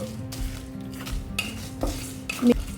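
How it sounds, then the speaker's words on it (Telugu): Sesame seeds and dried red chilies fry on low flame in a pan, with a few spoon scrapes and clinks against the metal over a faint sizzle. "ఇప్పుడు వీటిని లో ఫ్లేమ్లో మంచి కలర్ వచ్చేంత వరకు ఫ్రై చేసుకోవాలి"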